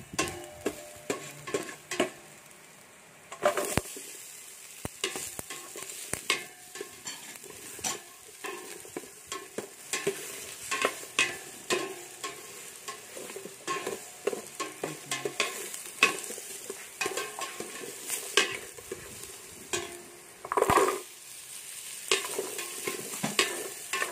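Chopped onion sautéing in a pan for a vegetable pasta soup: a steady low sizzle under frequent sharp scrapes and taps of a utensil against the pan as it is stirred, close by and without speech.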